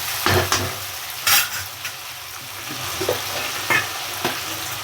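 Spices are stirred into onion, garlic and ginger paste frying on low heat for a mushroom and pea curry, with a steady soft sizzle broken by scraping spoon strokes against the pan.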